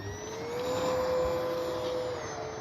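An FMS 1500mm Skylane RC plane's electric motor whines steadily overhead, the pitch rising slightly and then easing as it passes, loud and alone without talk.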